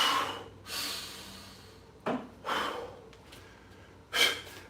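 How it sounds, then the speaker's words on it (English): Slow, controlled breaths after a martial arts workout at home: several long breathy exhales and inhales spaced a second or two apart, close to the microphone, with no talking. "from this position, I'm gonna slow my breathing back down"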